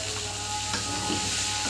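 Mutton fat sautéing in a pan for a ghugni, a steady close sizzle with faint scraping of stirring, no voices.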